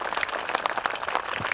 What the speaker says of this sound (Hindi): मैं चाहूंगा जोरदार ताली बजा के स्वागत करेंगे।